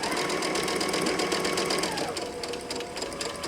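A sewing machine stitches bulky fabric with white poly thread, a fast steady mechanical whir and rapid needle chatter, close and continuous for a few seconds with no talking.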